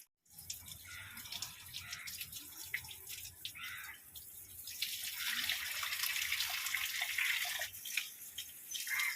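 Tap water runs and splashes steadily while a home garden is watered, a faint low trickle at first that swells into a louder, hissing flow in the second half, with no talk over it.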